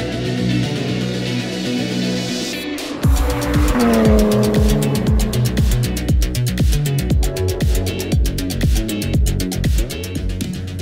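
Time attack race cars such as Miatas, Clio RS, BMW M3 and Porsche GT3 on a track, engines revving hard through repeated gear shifts, loud and close, one car passing by with a falling pitch.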